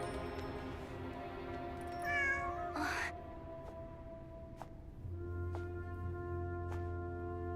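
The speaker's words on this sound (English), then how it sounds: "What's that cat again?" A cat meows in the video game Genshin Impact, a few short rising calls near the middle over a steady game music bed with chimes.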